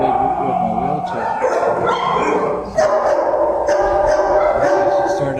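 Dogs bark and yip at an animal shelter, loud and close, in a near-constant run of overlapping barks with brief whimpering tones throughout.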